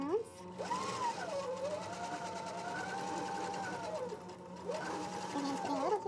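A sewing machine stitches a seam along a square pillow cover, running as a steady close whir for most of the clip, with a brief pause near the end, while an instructor's voice gives directions over it.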